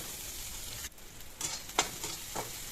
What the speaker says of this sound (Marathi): कांदा लसूण मिरची चांगली परतून घेऊया आपण, थोडासा कलर बदलेपर्यंत कांद्याचा पण.